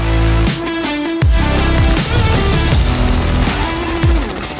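A Makita XGT 80V 70 lb GMH04 breaker hammer pounds into concrete with rebar, a loud rapid hammering that stops and restarts in several bursts, close and harsh with no speech.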